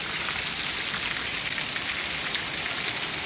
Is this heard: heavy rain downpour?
yes